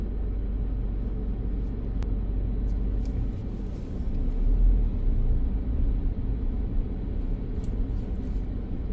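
A car passes along a road beside a golf course, a low rumbling roar that swells in the middle and fades, fairly distant, with no talk.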